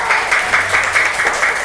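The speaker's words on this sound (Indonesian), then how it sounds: "beri tepuk tangan kelompok 2" Classroom group gives a short round of applause for group 2, a few hands clapping in a quick, fairly regular rhythm, close and moderately loud.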